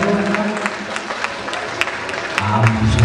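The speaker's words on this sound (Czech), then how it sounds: "Tak pozor, potlesk, potlesk" A carnival audience in Mostkovice claps in a steady patter of applause, with crowd murmur and a few voices running underneath throughout.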